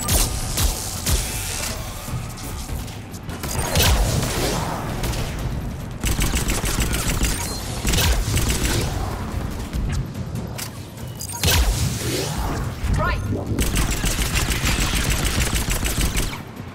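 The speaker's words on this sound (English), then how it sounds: "I just like the auto fire" Sustained automatic gunfire in Mass Effect 3: Legendary Edition, rapid dense bursts of shots with short breaks between them, loud and close throughout.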